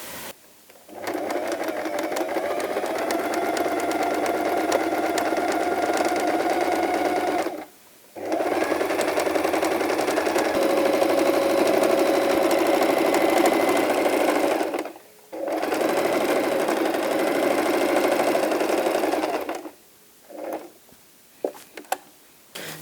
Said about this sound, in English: So after you cut, you start sewing the edges.